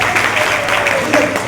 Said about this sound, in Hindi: एक बार बहुत जोरदार तालियां होनी चाहिए